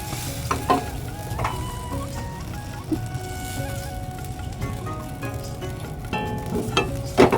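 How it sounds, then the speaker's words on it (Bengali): Batter poured into a well-heated kadai over a low-to-medium flame, a steady soft sizzle and bubbling crackle with light scraping touches, close and fairly quiet, with no voices. "কড়াই খুব ভালো করে গরম করে নিয়েছি এবার এর মধ্যে আমি ছোট বাটির এক বাটি বেটার দিয়ে দিচ্ছি"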